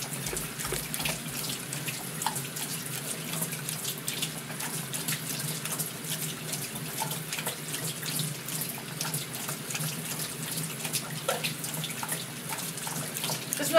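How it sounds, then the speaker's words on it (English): A pet laps at water running steadily from a household faucet into a sink, the continuous splashing stream filling the whole stretch at a constant level with no talking. "We're drinking water from the faucet."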